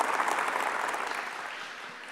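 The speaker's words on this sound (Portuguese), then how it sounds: "Eu quero pedir que você possa aplaudir a Canção Nova, esse território eucarístico e sagrado." An audience at a Catholic Canção Nova camp gathering claps in a dense, steady round of applause that holds at a fairly even level before easing slightly toward the end, with no talking over it.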